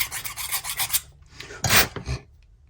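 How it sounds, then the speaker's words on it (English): Metal file rasping against an inline chassis part, a run of quick close strokes followed by a pause, then a few louder scrapes and a soft knock. "You could do that, just a little filing."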